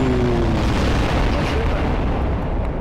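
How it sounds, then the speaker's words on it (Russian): A dropped bomb exploding in Garry's Mod, a dense, loud, continuous roaring blast wash that stays at full level throughout, with no talk over it. "Я там скинул бомбу."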